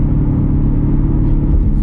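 A C7 Corvette Grand Sport fitted with an AWE Track Edition exhaust gives a loud, close, steady deep rumble, a continuous throaty drone with no voices over it.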